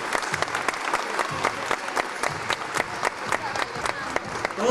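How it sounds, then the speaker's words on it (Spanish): Audience applause at a bodybuilding competition in Barranquilla, a dense sustained patter of many hands clapping at steady volume, with a few voices faintly mixed in. "Todos son campeones en aplausos."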